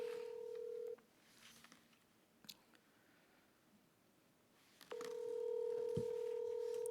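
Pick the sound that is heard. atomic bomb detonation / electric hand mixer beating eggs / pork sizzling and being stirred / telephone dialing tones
telephone dialing tones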